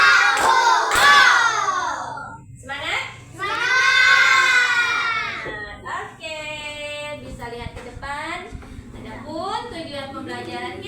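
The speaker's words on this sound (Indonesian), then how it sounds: "Oke, tepuk 1, tepuk 2, tepuk 3, tepuk 1, 2," A class of schoolchildren claps in a counted rhythm at the start of a lesson, their loud, close hand claps mixed with shouted chanting and excited voices.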